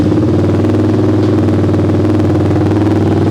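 A Kawasaki KFX450R ATV fitted with a Rekluse clutch idles in gear, a loud, steady, close-up single-cylinder thrum with an even rapid pulse and no pauses.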